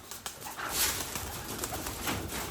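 Pigeons cooing softly at close range, a few low murmuring calls over a steady outdoor background, with no talking.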